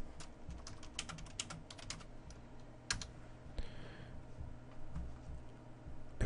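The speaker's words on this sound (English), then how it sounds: "we go to Google and we just type in something" Typing on a computer keyboard while entering a search in a web browser: a run of quick, close key clicks in irregular bursts over low room hum, with no talking.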